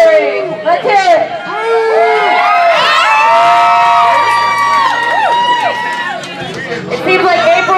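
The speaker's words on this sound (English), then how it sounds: "Everybody who's interested in cheering for our local girl, Great Kate Montgomery. Let's hear it." Bar crowd at a live Style Wars show at Edo's Squid in Richmond, Virginia, loudly cheering, whooping and shouting for local girl Kate Montgomery, a dense sustained roar of many voices filling several seconds.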